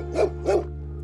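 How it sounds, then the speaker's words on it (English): Guard dogs at Angola prison give two sharp barks about a third of a second apart, close and loud, over a steady low hum. "The dogs of Angola."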